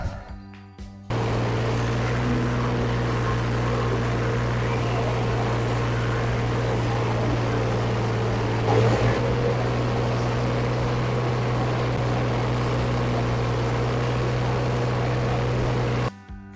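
A mini-tractor pulls a Bomet plough through a field, its engine droning steadily and loudly from close by for the whole stretch, starting and stopping abruptly at either end, with no one talking.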